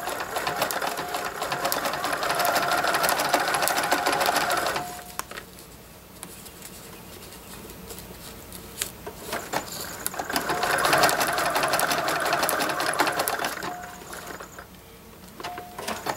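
A sewing machine stitches a mitered corner on the border of a lace tablecloth wall hanging, running in two sustained bursts with a quieter pause of faint handling sounds between them.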